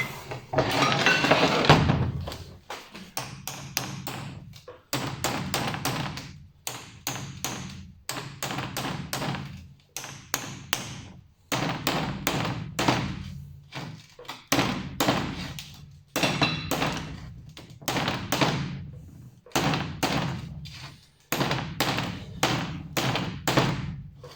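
Sharp, repeated taps on a motorcycle engine part being worked loose to remove a bearing come in uneven bursts of quick metallic knocks with short pauses between.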